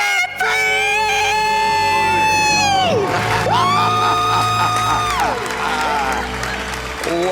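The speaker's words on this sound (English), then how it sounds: "Let's hear a debt-free scream." Loud, sustained screaming and cheering from a crowd celebrating a couple who have become debt-free, with rising and falling shrieks that fill the whole stretch.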